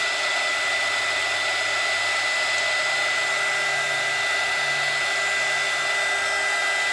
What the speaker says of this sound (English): we're going to hit that again with our dryer